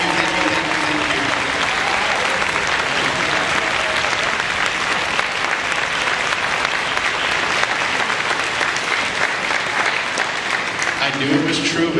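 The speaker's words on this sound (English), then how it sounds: "could you stand and receive a round of applause?" A concert hall audience at a middle school symphonic band concert applauds teachers with a long, dense round of clapping that stays loud and steady throughout, a few voices faintly mixed in.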